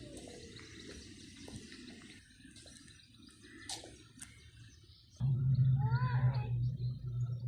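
Water runs outdoors during a walk in the UK countryside: a faint background trickle with birds calling, then from about five seconds a louder, closer rush of flowing water that continues to the end.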